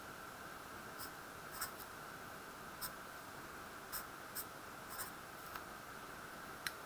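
A pen draws a line structure of aspirin on a writing surface, giving faint scratchy strokes and ticks scattered at an irregular pace over a steady background hiss.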